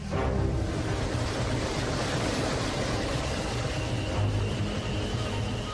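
Millions of litres of released water rush through the Tisbarrach international whitewater sports centre, a loud, continuous broadband roar with no breaks, close and steady throughout.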